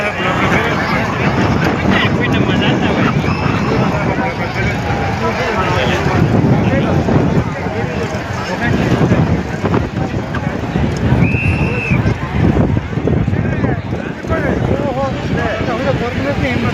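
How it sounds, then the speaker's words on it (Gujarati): Strong wind and heavy rain roar continuously at an outdoor Shiva katha gathering of a Hindu community, a dense, steady wash of noise with people talking underneath. "કથામાં પવન સાથે ફૂલ અટાણે વરસાદ આવી ગયો છે."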